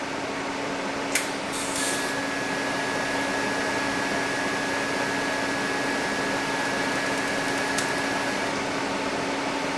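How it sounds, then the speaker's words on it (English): TIG welding at about 85 amps, filling old scope holes with a plug weld: a steady close hiss and buzz from the arc runs through the whole stretch, with no talk. "So there's our first plug weld."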